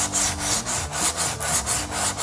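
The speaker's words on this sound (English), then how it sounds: "a file will find all your high and low spots" A hand file is pushed across a metal car fender in regular back-and-forth strokes, each a rasping scrape about half a second long, close and fairly loud, with no voices.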